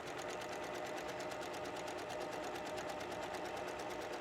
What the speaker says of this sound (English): I'm going to start, do a little back stitch, and stitch